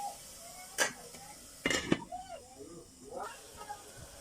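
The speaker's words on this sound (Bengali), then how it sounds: "এখন টুকটুক করে আলুটি কেটে রেখে দিয়ে দিব। দিয়ে আমি একটু নাড়াচাড়া করে রেখে রেখে দেব।" Potato curry being stirred in a pan, giving a few sharp metallic scrapes and clinks of a utensil against the pan with quieter stirring between them. A voice talks softly in the background.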